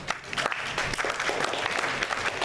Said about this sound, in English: You all can clap for Rob.